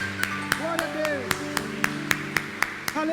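A church congregation claps in steady unison during a lively worship service, a regular beat of sharp claps under a preacher's loud voice and music.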